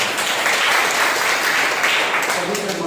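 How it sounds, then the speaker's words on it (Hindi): Loud, sustained applause from a church congregation during a Sunday worship service, a dense steady wash of clapping that fills the whole stretch without pause. "एक जोरदार ताली बजाइए।"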